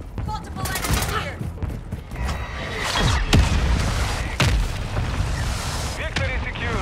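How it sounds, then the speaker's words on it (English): Mortar strike explosions and gunfire in Call of Duty Modern Warfare II multiplayer, with loud repeated booms and crackling bursts layered under in-game voice callouts. "Friendly mortar strike on the way."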